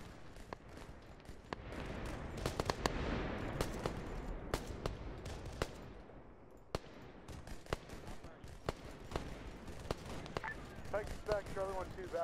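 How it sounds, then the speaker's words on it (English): Gunfire in the military shooter Arma 3: irregular sharp cracks and bursts scattered through a steady battlefield din, some close and loud, others distant, with radio chatter faintly under the shooting near the end. "What is it shooting at?"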